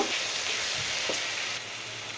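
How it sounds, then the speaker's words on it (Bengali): Garlic frying in hot oil in a pan while a lentil and stuffed pointed gourd dish is being made, giving a steady, close sizzle with faint stirring and no talk. "তেলের ভিতরে আমি রসুন দিয়ে দেবো এক চামচ পরিমাণে রসুনটা একটু ভাজা দিয়ে নিতে হবে"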